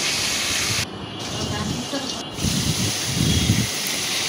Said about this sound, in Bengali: কড়াইয়ে তেল গরম করে নিয়ে আমরা এর মধ্যে ডিমগুলো ভেজে নেব।